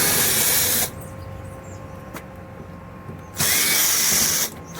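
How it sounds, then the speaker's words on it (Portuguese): A power screwdriver backs Phillips screws out of the lid of an Electrolux LTE07 washing machine, two loud steady whirring runs at the start and end with a quieter mechanical hum between. "Começando aqui tirando os parafusos da tampa."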